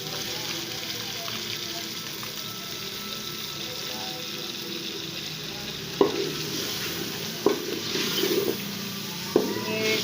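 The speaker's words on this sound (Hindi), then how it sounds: "इसके साथ मैं ये दूध ऐड कर रही हूँ।" Milk poured into a pot of browned meat and onions for saag gosht, a soft continuous sizzle and bubbling with a few sharp clinks of a spoon against the pot near the end.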